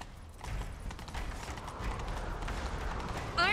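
Horse hooves galloping in the video game The Witcher 3, a quick rhythmic clatter under continuous rumbling action noise at moderate level, with a brief burst of voice at the very end.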